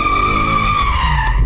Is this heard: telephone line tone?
no